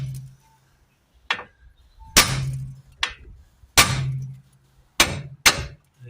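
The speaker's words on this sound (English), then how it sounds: "hit it, a good hard hit right about there on that steel part there, and that'll just shock it loose" A steel hammer strikes a tie rod end on a Volvo V70 to shock it loose, about six sharp metallic blows at uneven intervals, each ringing briefly against quiet, close and loud.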